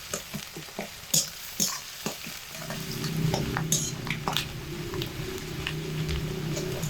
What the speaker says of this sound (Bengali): এবার এগুলোকে খুব ভালোভাবে মিডিয়াম আঁচে 2 থেকে 3 মিনিট সময় ধরে ভেজে নিচ্ছি